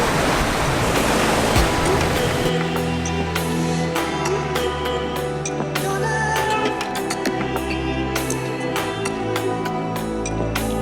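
Waves wash onto a sandy beach in Penang, Malaysia, a loud continuous roar of surf with rolling swells and frothy hiss, no voices.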